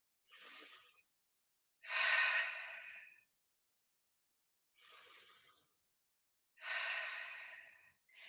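Deep breaths during a legs-and-lunges flex fit exercise class: four breathy inhales and exhales, close and unhurried, separated by short silences.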